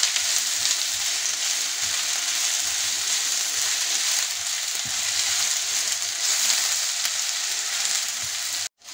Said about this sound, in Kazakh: Кішкене қуырылсын 1-2 минуттай.